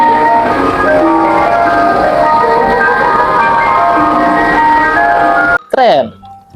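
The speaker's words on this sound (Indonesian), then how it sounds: "Wow, kita dapat mobil es krim." Toy ice cream truck playing its tinny electronic jingle, a continuous melodic tune held close and loud, cutting off near the end before a short voice.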